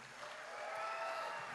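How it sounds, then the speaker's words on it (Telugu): An audience at a Telugu film pre-release event claps together, making a brief, even wash of applause heard from a distance with no voices on top. "అందరూ ఒకసారి తనకి క్లాప్స్ కొట్టండి"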